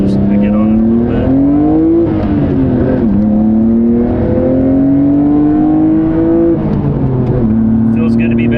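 A Nissan R32 GTR with an RB engine pulls hard through the gears, its engine note climbing steadily, dropping at each shift, then climbing again. It sounds loud and close, as heard from inside the car, with talk over the top.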